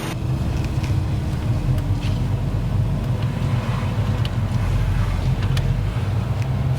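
Steady engine drone heard from inside a car, constant and moderately loud, with a low hum and no clear rise in pitch.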